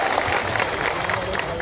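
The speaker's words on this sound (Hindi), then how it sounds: "जोरदार तालियां विधायक महोदय के लिए।" Loud crowd applause for an MLA at a large tribal cultural gathering in Pankheda, Maharashtra, a dense continuous wash of clapping with a faint crowd murmur underneath.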